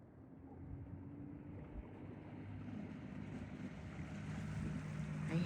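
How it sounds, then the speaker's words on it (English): A dinghy outboard motors away across an anchorage bay crowded with boats, a low droning hum that swells steadily louder over several seconds against wind and water. "I hear the dinghy leaving behind me"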